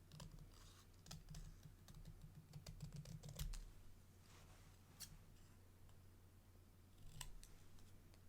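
Scissors fussy-cut paper in quick bursts of crisp snips and clicks, close up but very quiet, with short pauses between runs of cuts.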